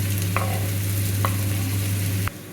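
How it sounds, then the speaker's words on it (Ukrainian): Steady sizzling and crackling of onion frying in hot lard, with a few faint clicks of stirring before the sound drops off abruptly. "Салко вже шкварчить, як положено."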